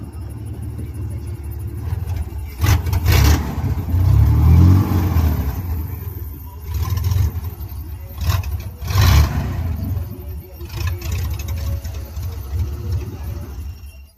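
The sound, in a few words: Ford engine running with VW injectors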